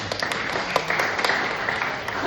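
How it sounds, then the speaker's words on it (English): A church congregation claps in praise at a ministry service, a steady wash of applause with a few sharper individual claps, moderately loud and continuous throughout. "that story deserves a clap of praise to God"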